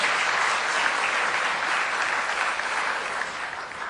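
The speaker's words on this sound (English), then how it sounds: "he deserves a huge round of applause" Steady, dense applause from an event audience at a Delhi Q&A session, loud and sustained throughout with no voices over it.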